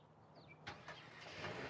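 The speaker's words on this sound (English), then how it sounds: "You just need to hit the lock button twice and you click and hold the remote start" A 2021 Nissan Kicks SV engine starting up by remote start, a brief cranking burst followed by a rising, steady idle at moderate distance, with no talk.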